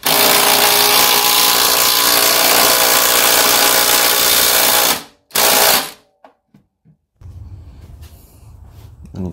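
A power ratchet tightens a 17 mm bolt through the track during an engine install in an MR2 K swap, whirring loudly and continuously for about five seconds, then giving a short second burst and quiet clicks.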